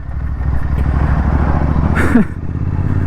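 A Royal Enfield GT650 motorcycle at speed, its engine droning loud and steady throughout, with a brief rise in pitch near the end.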